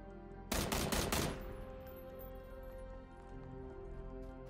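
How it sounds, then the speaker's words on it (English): Gunshots in the video game PUBG, a rapid burst of several shots fired in the desert, fairly faint over a steady low background hum. "I know these shots are coming from the desert"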